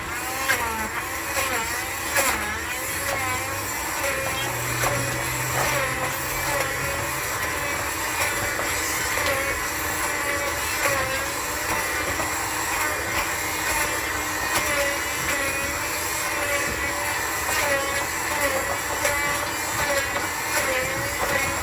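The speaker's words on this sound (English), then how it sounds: "I have the immersion blender, and I'm just going to just blend it up." An immersion blender whirs continuously while blending hot cooked apples with the skins on, a dense steady motor drone with grinding texture and no talking.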